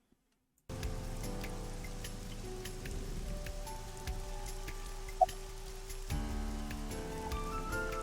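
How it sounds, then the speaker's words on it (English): Steady rain patters faintly in the AI: The Somnium Files game scene, a soft hiss with scattered drop ticks beneath a quiet musical drone. "This rain is awful, huh?"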